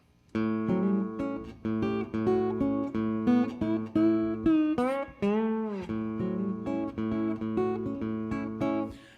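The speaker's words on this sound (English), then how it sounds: "this is the sound of the bridge pickup." Godin Multiac Spectrum SA acoustic guitar through its bridge pickup, notes and strummed chords with a bright, slightly thin amplified tone, played alone at moderate volume with steady rhythm.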